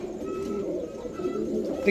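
A pair of Sapchila pigeons, Roadmaster type, coo in low, throaty rolling notes close by, a soft continuous murmur with a slightly louder swell near the end.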